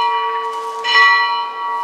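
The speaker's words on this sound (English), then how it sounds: "And the bell is ringing in the bell tower." A church bell rings from the bell tower at Melrose Abbey in Scotland, a sustained metallic tone with rich overtones and a fresh strike near the middle, heard alone without talk.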